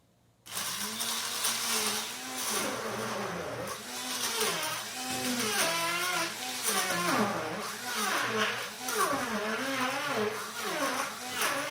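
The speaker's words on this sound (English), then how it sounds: "this is a very sharp mixer" A loud electric blender whirs steadily for several seconds, its motor pitch wobbling and surging as it churns a thick pesto mixture.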